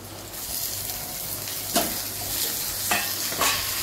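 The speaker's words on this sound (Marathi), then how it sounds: "इथे आता हलकासा गोल्डन कलर आलाय कांद्याला, तर त्यामध्ये आपले ही टमाटे टाकून घेऊ" Tomatoes are tossed into onions frying on high flame, with a soft continuous sizzle and a few sharp bursts of hissing and stirring scrapes as they hit the hot pan.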